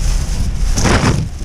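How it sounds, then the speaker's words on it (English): Heavy outdoor rain in Bowling Green, Kentucky, pouring with gusty wind buffeting the microphone, a loud steady roar with a surge of hiss partway through. "it's raining like cats and dogs out"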